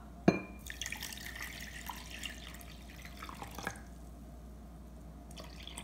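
A cup of warm water poured into a bowl for homemade pizza dough: a faint, soft trickle with a few light drips and a small clink at the start, quiet throughout.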